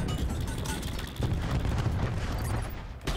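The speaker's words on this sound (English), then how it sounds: "Throwing cluster grenade." A cluster grenade goes off in the Black Ops 4 video game as a dense run of rapid, overlapping explosive bursts, loud and close, with a louder boom partway through.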